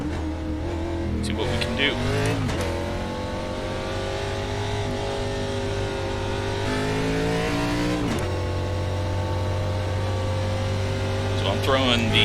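ARCA stock car leaving on a qualifying lap at Lucas Oil Indianapolis Raceway Park in the iRacing simulator. A loud engine drone climbs through several gear changes, easing off briefly, then revving again. Someone talks over it at the start.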